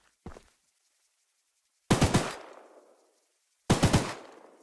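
Train-mounted gun firing in the video game Choo Choo Charles: one short blip, then two loud rapid bursts of several shots each, each burst trailing off in a long echoing decay.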